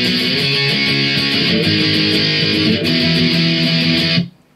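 Distorted electric guitar fill, a dense, loud and steady wash of power chords played alone with no talk, cutting off abruptly near the end.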